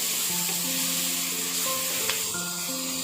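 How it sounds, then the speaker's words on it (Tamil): Ginger garlic paste sautéing with onions in a pan for a Tamil pepper crab fry, a steady close sizzle running the whole time with light stirring scrapes and tonal background hum. "இஞ்சி பூண்டு பேஸ்ட்டோட பச்சை வாசம் போகிற அளவுக்கு நல்லா வதக்கி விடலாங்க."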